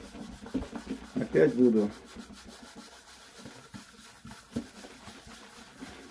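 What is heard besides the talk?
rubbing shellac polish onto a wooden guitar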